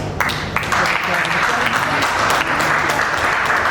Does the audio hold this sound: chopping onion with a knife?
no